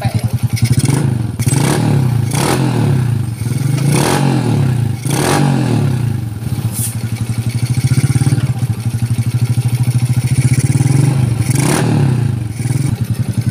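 A motorcycle engine with original ignition and freshly tuned compression revs repeatedly up close, loud throbbing bursts rising and falling in a steady rhythm over a rough idle with some mechanical clatter.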